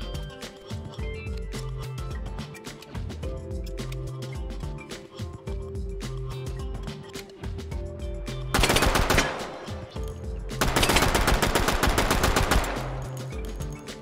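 A cut-down Draco 8K firearm in the H3VR virtual reality game fires in rhythmic, loud repeated shots, with two bursts of harsh, dense noise near the end and no speech.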